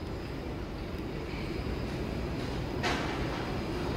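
A Sydney Millennium M set train idles at a station platform beside a Tangara train, giving a steady broadband rumble and hiss with a brief sharp burst near the end.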